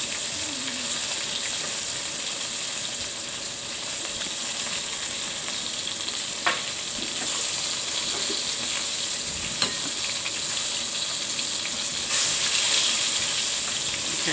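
Flour-coated chicken pieces for sweet and sour chicken crackle and sizzle in hot oil, a continuous close frying hiss with a few sharp clicks and pops scattered through, no talking.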